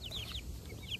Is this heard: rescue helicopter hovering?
no